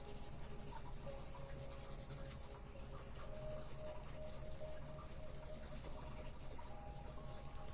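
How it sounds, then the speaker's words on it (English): A number 2 pencil shades heavily on paper, producing a steady, faint scratchy rubbing that continues without pause, close and alone. "I'm going to take my number 2 pencil and I'm just going to shade the black a whole lot"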